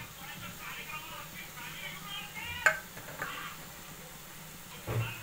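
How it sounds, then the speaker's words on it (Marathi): Moth beans being stirred with fresh coriander in a pan: a soft steady sizzle with a few scraping strokes of the spoon, fairly quiet and close. "आता मी ह्याच्यावर ना कोथिंबीर टाकून घेते आणि छान असं हलवून घेते"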